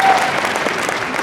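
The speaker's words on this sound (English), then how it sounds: "Applause for my imaginary girlfriend." A short burst of crowd applause at a Doctor Who convention panel, loud and dense for the whole moment.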